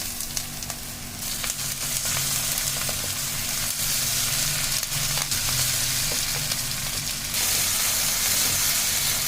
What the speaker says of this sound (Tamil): இப்போ நம்ம வெட்டி வச்ச கேப்சிகம் சேர்த்துக்கிறோம்